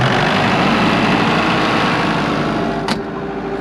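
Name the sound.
irrigation pump engine starting and idling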